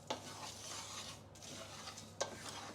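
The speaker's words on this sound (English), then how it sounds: "So mix those around good and well, those dry ingredients" Sultanas and raisins stirred together in a bowl, a soft continuous rustling scrape with two brief sharper knocks of the spoon against the bowl, close and very quiet, no voices.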